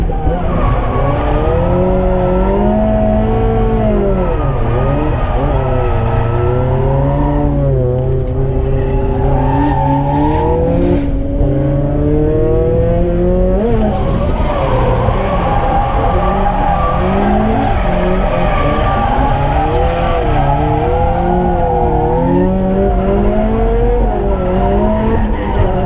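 A drift car roars through a drifting session with its engine revving up and down, loud and close, while the tires screech and skid almost without a break, and a voice speaks faintly under the din.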